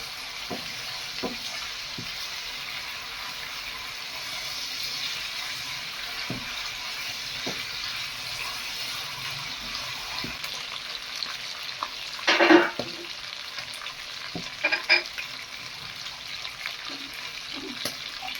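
Liver and gizzards stir-frying in a pan, giving a steady low sizzle throughout with scattered clinks and stirring scrapes, and a brief louder clatter near the middle; no talking.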